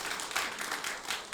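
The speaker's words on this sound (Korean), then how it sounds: "박수 한번 해주시기 바랍니다" Congregation applauding during a Sunday church service, a brief, fairly faint patter of many hands clapping at once.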